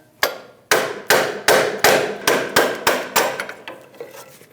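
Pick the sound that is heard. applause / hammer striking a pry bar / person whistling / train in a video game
hammer striking a pry bar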